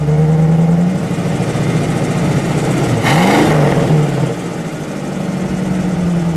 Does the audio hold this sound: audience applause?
no